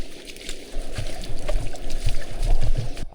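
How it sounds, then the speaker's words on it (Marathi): Rainwater runs along a channel beside rice paddies in the monsoon Konkan countryside, a steady close gurgling and trickling flow with small splashy pulses and no voices. "पाऊस केवढासा पडला, गलीला पाणी आलं आहे बघा"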